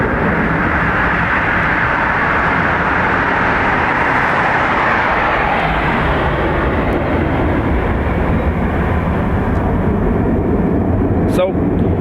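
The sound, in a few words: Aer Lingus A330-200 jet taking off from Dublin Airport runway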